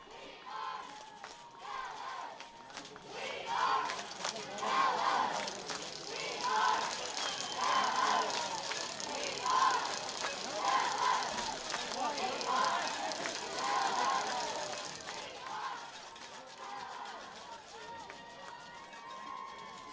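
A crowd at a Class 4A baseball state championship game between Liberty and Calallen cheers and chants in rhythmic waves, a dense roar sustained for most of the stretch before easing off, with voices mixed throughout.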